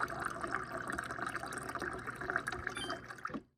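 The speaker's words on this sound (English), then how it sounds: "It just dispenses it straight into your glass." Water streams steadily from a KitchenAid five-door fridge dispenser into a glass, a continuous close pour that stops abruptly.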